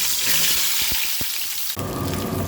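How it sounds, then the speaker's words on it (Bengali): Small new potatoes drop into hot mustard oil and fry with a loud, dense sizzle, a few pops and clatters, then a sudden surge of hissing as they settle into the pan. "এখানে আমি আলুগুলো দিয়ে দিচ্ছি।"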